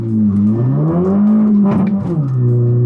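A car running an 034 Stage 2 tune launches hard with its tires spinning, giving a loud, close engine drone that climbs and holds in pitch for a few seconds with no talking.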